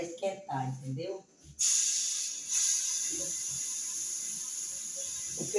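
Brief speech gives way to a sudden bright hiss as garlic and oil hit a hot pan, settling into a steady sizzle, with faint talking underneath.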